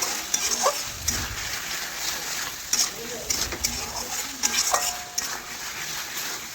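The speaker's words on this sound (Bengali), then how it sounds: "এটাও ভালোভাবে নাড়াচাড়া করে চিকেনের সাথে মিশিয়ে নেব" Chicken stirred with Kashmiri chili powder, spices and oil in a wok after its water has cooked off: a faint sizzle under repeated scraping and clinking spatula strokes, with a voice talking over it.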